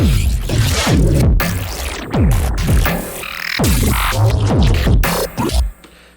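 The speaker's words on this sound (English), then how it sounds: "all these glitches sound like this." Stuttering electronic glitch effects chop and sweep across a synthetic sound, with sliding pitch bends and abrupt dropouts in a choppy, irregular pattern.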